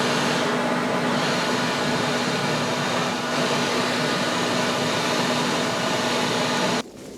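A leaf blower fitted with a homemade twelve-foot gutter-cleaning extension runs at a steady, loud whooshing roar with a constant whine, then cuts out abruptly near the end.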